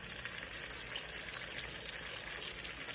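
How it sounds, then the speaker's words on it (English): Meat sautés in a pan while being browned for a mixed greens dish, giving a steady, close, continuous sizzle and crackle with no talk over it. "still simmering, still sauteing the meat"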